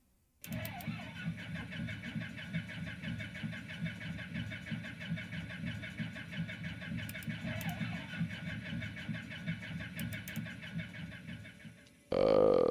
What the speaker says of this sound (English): so right engine, we'll just open it a little bit, and then we'll start it up